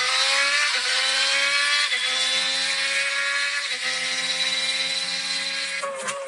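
A V6 six-cylinder engine holds a loud, steady, high-pitched harmonic whine throughout, with brief dips in pitch about every two seconds as it shifts gears. No other sounds intrude.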